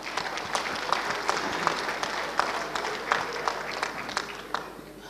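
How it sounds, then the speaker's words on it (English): An audience applauds steadily, a dense wash of many hands clapping that holds without pause throughout. "Please give a huge round of applause to all our supporters and sponsors."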